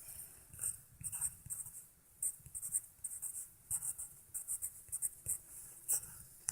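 Pen scratching out a phone number on a piece of paper, a run of short, quiet scribbling strokes in irregular bursts, close by with no talking.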